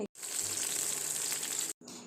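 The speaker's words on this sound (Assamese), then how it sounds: "তেল গৰম হ'ল, মই ইয়াত পটলখিনি ভাজি ল'ম" Hot oil sizzles loudly as pointed gourd pieces seasoned with salt and turmeric fry, a steady hiss cut off by brief silences near the start and end.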